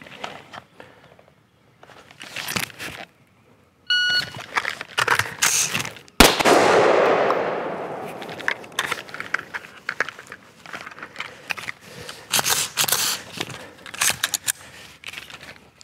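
Rifle magazine reloads at a shooting range: sharp metallic clacks and rattles of magazines seating, with a loud gunshot and its echo partway through, then more scattered clicks and handling noises.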